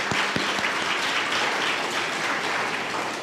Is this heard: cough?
no